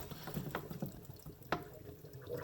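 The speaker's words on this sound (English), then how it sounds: "take our strawberries that have been soaking in the water and vinegar mixture, and we're going to go ahead and dump them all in a colander" Strawberries that soaked in a water and vinegar mixture are dumped into a colander, giving a few soft wet splashes and drips, quiet and close, with a brief sharper splash midway.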